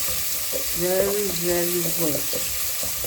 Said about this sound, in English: You have to fry the onion very well.